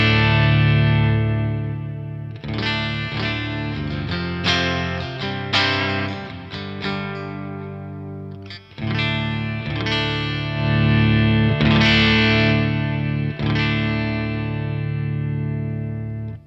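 Electric guitar chords strummed through an Origin Effects Halcyon Green Overdrive pedal, several loud sustained strums with a driven, saturated tone ringing out and decaying between hits.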